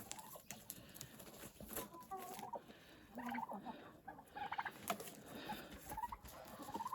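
Farmyard turkeys and poultry, including a black hen turkey, gobble and cluck in scattered bursts at low volume, with rustling and occasional faint voices nearby.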